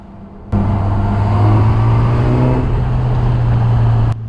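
A Honda CB1000R Neo Sports Cafe Racer motorcycle pulls away on a test ride, engine note rising steadily with throttle for a few seconds, loud and close, with no speech.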